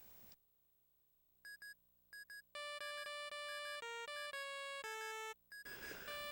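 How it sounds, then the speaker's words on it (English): Electronic mobile phone ringtone from the Luigi's Mansion game: short beeping bursts, then a loud sustained melodic tone sequence, with noise at the end. "My phone's ringing again."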